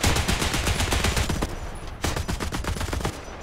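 .50 caliber machine guns firing in War Thunder tank battles, a loud continuous rapid burst of gunfire with a brief break near the middle before the fire resumes.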